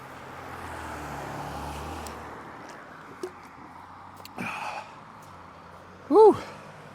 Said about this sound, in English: There just happens to be a semi truck coming the one time I'm going across the freaking bridge.